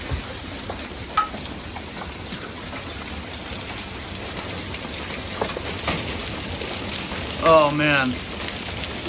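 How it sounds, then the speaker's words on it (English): Hail pounding down in a severe thunderstorm, a steady dense rattling hiss with occasional sharper hits, and a voice briefly exclaiming near the end. "Here comes the hail."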